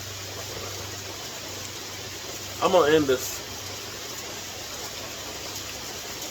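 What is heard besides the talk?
rain falling outdoors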